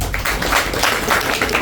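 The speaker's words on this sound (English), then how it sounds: "Clap yourself first of all. And also clap for your parents." Audience clapping at a parents' forum for candidates, a dense, loud burst of applause from many hands, steady throughout.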